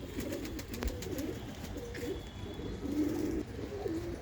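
A pair of black pigeons, a cock and hen, coo over and over inside an enclosure, low warbling calls rolling on continuously at close range with a faint chirp or two.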